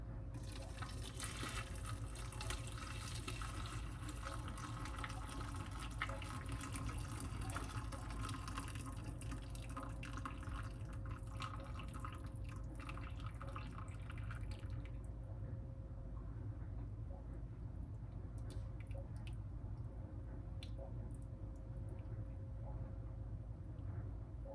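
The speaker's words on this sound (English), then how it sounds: "I have lined a strainer with multiple layers of cheesecloth. And now we can add" Chicken stock pours through a strainer lined with several layers of cheesecloth, a continuous liquid rush and gurgle under a steady low hum, the splashing thinning noticeably about two thirds of the way through.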